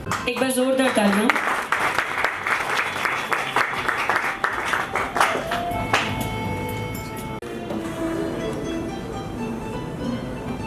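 Loud, sustained clapping fills a hall at a corporate Diwali celebration at a resort, with talk and music over it and the applause dying down toward the end.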